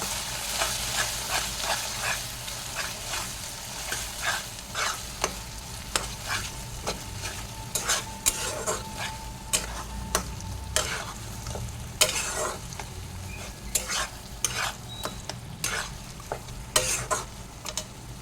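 Taro leaf curry with lemon leaves being stirred in a pan, with repeated scraping and clinking strokes in an uneven rhythm over a low sizzle, close and continuous, with no talking.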